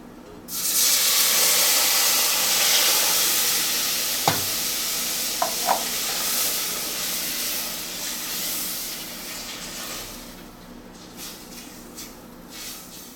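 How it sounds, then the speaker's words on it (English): Cold milk poured into a hot, browning flour roux sets off a loud, sustained sizzle and hiss with steaming and stirring, gradually settling down over about twelve seconds. "this flour is starting to brown, so we're going to go ahead and add our cold milk in"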